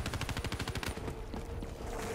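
Rapid automatic gunfire in a zombies video game on the Gorod Krovi map, a fast burst of evenly spaced shots for about a second, then a trailing rumble of game noise with no talking.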